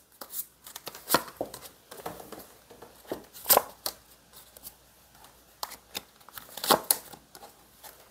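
Tarot cards being shuffled and drawn at close range, a series of crisp, irregular riffles and slaps with sharp bursts between quieter rustling, and no voices.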